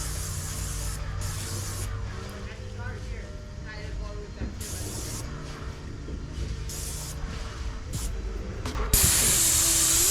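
An airless paint sprayer with a 515 tip hisses steadily as it lays top coat on LP siding, a continuous close spray noise broken by short stops and a louder burst at the end, with some mechanical rattling underneath.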